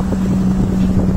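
Strong westerly wind at sea on a shrimp trawling boat, a loud steady buffeting roar mixed with a low, constant engine hum aboard the vessel.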